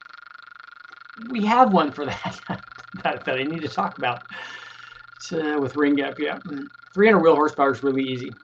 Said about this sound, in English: You guys might hear the frogs that are in the background.